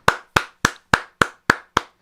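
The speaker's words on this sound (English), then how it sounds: "Okay, I'll applaud for you." A single person claps hands alone, eight sharp, evenly spaced claps at a steady moderate pace, close and crisp with quick decay between each.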